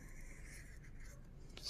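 Chalk or marker writing a chemical formula on a classroom board: faint, soft scratching strokes under a steady low room hum, quiet and close, with no talking.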